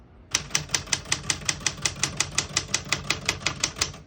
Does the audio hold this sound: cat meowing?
no